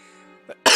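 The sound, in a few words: coughing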